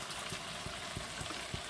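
Water runs from a kitchen tap to rinse something during cooking, a steady, hissing splash of flowing liquid heard close by with faint knocks underneath and no voices.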